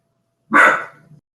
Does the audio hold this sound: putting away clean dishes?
no